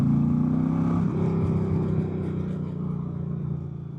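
A 2025 Indian Chieftain PowerPlus Limited motorcycle with the 112 PowerPlus engine rumbles steadily while riding, a close, low engine drone that shifts pitch slightly about a second in and continues alone.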